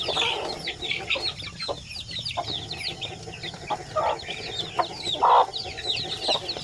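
A brood of twenty-odd Basilan and Zamboanga native chicken chicks with their hen, giving dense, overlapping high peeps and chirps throughout, with occasional louder close cheeps.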